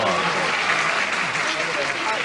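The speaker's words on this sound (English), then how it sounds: "why are you applauding if you don't like the answer?" A studio audience at a television game show applauding loudly and continuously, a dense wash of clapping filling the whole moment.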